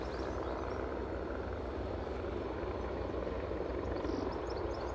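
A Bristow Sikorsky S-92 helicopter approaching Aberdeen airport, a steady low rotor thrum and engine roar that holds evenly throughout, with no voices.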